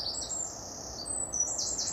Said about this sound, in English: Yeah, the birds.